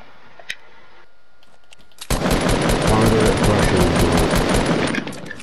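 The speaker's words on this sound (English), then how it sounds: "Submachine gun, I guess." A submachine gun fires a rapid, sustained burst during an online shooter match, loud and close, roughly three seconds of continuous automatic fire after a quiet lead-in with a faint click, while players talk.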